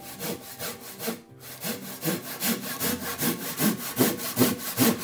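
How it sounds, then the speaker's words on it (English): A handsaw cuts a dovetail joint in soft Kiso cypress timber for a floor table, giving a close, loud, rhythmic rasp of back-and-forth strokes with one brief pause. "Now, I cut a dovetail joint on the stretcher. As a DIYer, I use a handsaw."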